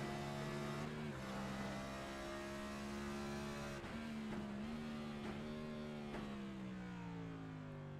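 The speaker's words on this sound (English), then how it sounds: "Have another listen to Dakota Long downshift into the bus stop" A race car engine in the iRacing simulator at Charlotte Motor Speedway drones at high revs, with pitch dips and blips as it downshifts into a chicane, steady and close with no talk.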